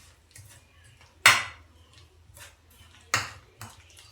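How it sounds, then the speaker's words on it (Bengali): Water is mixed into batter in a bowl, with soft stirring and two sharp, ringing clinks of a utensil against the bowl, plus a lighter tap near the end. "এই যে মগটা করে জল নিয়েছি এই পরিমাণ জল আমি এটার মধ্যে অ্যাড করে দেব, দিয়ে ভালোভাবে মিশিয়ে নিচ্ছি"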